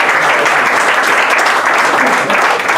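Loud, close applause from an academic lecture audience at the end of an Armenian studies talk, continuous dense clapping sustained for nearly three seconds.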